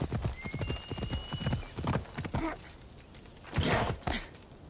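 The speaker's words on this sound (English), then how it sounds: "Big old Billy Goat horse" A horse in the video game Assassin's Creed Odyssey moves at a brisk pace, its hooves giving a steady, close clip-clop rhythm. A short neigh joins near the end, and no one talks over it.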